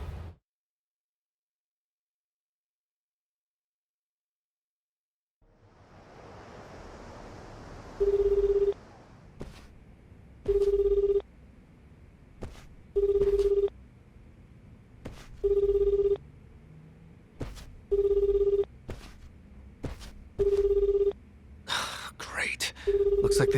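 A phone call in Like a Dragon 8 rings out unanswered, repeating tone bursts at steady intervals of about two and a half seconds over a low ambient hum, with a brief sound at the very end.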